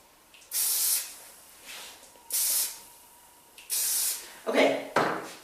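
Several short hissing bursts from an aerosol root lifter spray by KMS California, sprayed at the hair roots, each about half a second, separated by pauses, close and fairly loud.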